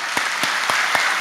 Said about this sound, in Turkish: Metin Keçeci'ye bir alkış.